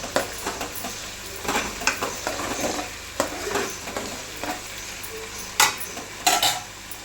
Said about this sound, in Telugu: ఆయిల్లో మళ్ళీ ఒక హాఫ్ ఉల్లిగడ్డ, ఒక 4 పచ్చిమిర్చిని ఇలా వేయించుకోవాలి